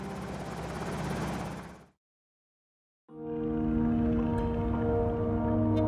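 A Boeing Vertol tandem-rotor helicopter runs as a loud, steady engine and rotor drone with a strong whine, cutting to about a second of silence before resuming just as loud.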